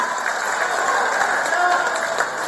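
A brief burst of steady audience applause at a PDI Perjuangan political speech by Megawati, many hands clapping together in a dense, even wash, fairly close and continuous.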